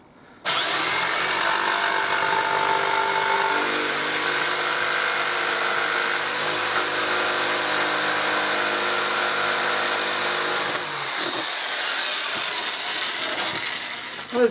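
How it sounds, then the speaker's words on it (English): A jigsaw cuts out wooden templates for a bird table, running loud and steady for about ten seconds with a strong buzzing whine before the tone shifts slightly near the end. "All I need to do now is cut them out, which I'm going to be using this jigsaw"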